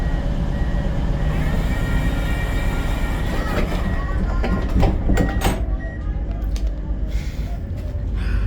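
Onboard an EMR Class 222 Meriden diesel train, a loud continuous rumble and rolling roar fills the carriage, with clanks and rattles toward the middle as the train runs along.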